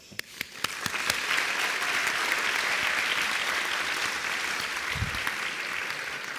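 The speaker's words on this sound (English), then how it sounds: "We can clap." Scattered claps swell quickly into full, sustained applause from delegates at a general assembly council meeting, loud and dense, with a brief low thump partway through.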